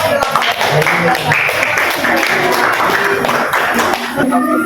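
A classroom audience claps together for a speaker at the end of an economics lesson, a dense burst of close clapping with thumps and voices chattering underneath.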